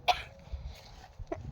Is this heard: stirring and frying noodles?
no